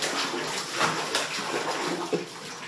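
Puppies swimming, giving a steady wash of moving water with soft splashes and occasional small slaps, close and continuous throughout.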